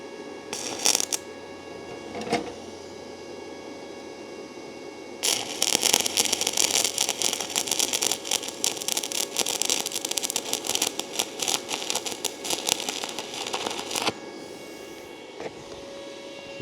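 A SEFASPE 160A stick welder burns a rod, giving a loud, steady crackling hiss for about nine seconds after two short sputters of arc strikes, then falling quiet.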